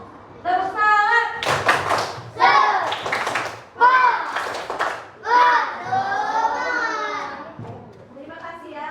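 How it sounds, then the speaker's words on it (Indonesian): Children in a classroom clap their hands in rhythmic patterns, near and lively, mixed with a chanted or spoken adult voice and children's voices throughout. "Tepuk tangan."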